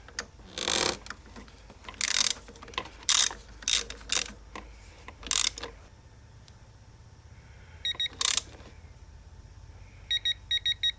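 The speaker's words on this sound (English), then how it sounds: "now we can tighten the top tree, triple tree clamp" A ratchet wrench tightening the top triple tree clamp bolt on a 2008 Kawasaki Concours 1400 motorcycle, bursts of rapid clicking strokes close up, then pauses and a few short final clicks.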